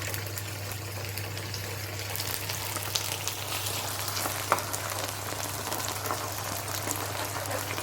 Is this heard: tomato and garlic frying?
yes